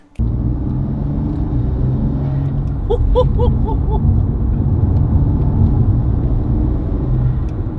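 A BMW M4 with an S55 engine and carbon fibre intakes pulls away, giving a loud, steady low engine rumble that carries through the whole stretch, with a few brief higher-pitched chirps in the middle.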